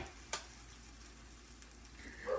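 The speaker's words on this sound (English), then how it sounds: "Hear that sizzle because it's nice and hot." Low, steady frying sizzle hisses close by as a panini cooks on a hot Hamilton Beach panini grill, with a sharp click near the start and a brief scrape at the end.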